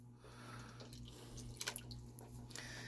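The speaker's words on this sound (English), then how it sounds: "And then I'm also going to pour the milk in." Milk being poured into a pan on an electric stove while making chai: a faint, quiet trickle with a few soft drips.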